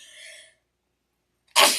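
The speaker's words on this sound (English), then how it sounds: "And I'm going to sneeze." A single sharp sneeze bursts out loudly after a short silence, preceded by a brief faint rustle.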